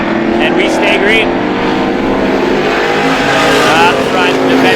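Race cars roar around the Star Speedway oval during a Strictly feature, a steady loud engine drone with rising and falling pitches under continuous commentary.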